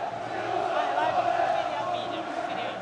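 Santos fans outside Vila Belmiro greet the team bus arriving, a dense, continuous crowd roar with shouting and cheering that swells slightly and stays loud throughout.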